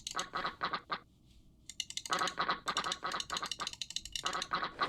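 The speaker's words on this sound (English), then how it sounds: "Let's take a moment to quack our ducks and remember who we are inside a quacker" Cartoonish ducks in RollerCoaster Tycoon quack in quick rhythmic bursts, a dense run of loud repeated quacks with a brief pause in the middle, close and clear with no talking.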